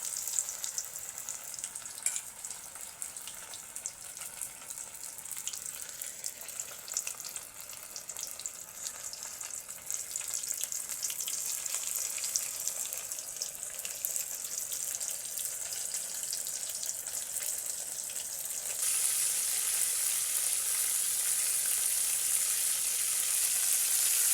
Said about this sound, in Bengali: কড়াইতে তেল গরম হয়ে গেছে, এবার তেলের মধ্যে মাছগুলো আমি একটা একটা করে ছেড়ে দেবো